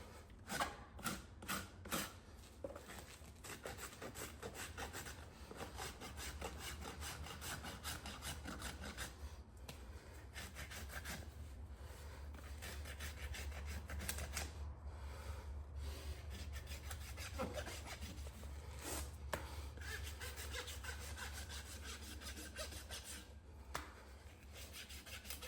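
Steady rasping and rubbing as a farrier's rasp files down a young horse's hoof, a continuous scraping rhythm close by with a few sharper strokes at the start.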